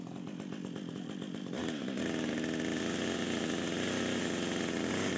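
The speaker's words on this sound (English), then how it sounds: "I wouldn't recommend using a chainsaw to cut something this small" A chainsaw idles roughly, then revs up to a loud, sustained buzzing whine as it cuts into wood, close by.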